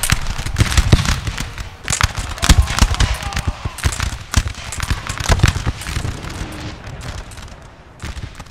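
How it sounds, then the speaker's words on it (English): Artillery fires in a Napoleon Total War multiplayer battle with Russian and French infantry. Dense, crackling volleys and booms pile up continuously at moderate loudness, like a distant fusillade. "We've got artillery firing onto them now."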